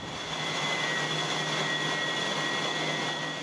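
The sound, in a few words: AC compressors in MS Zuiderdam engine room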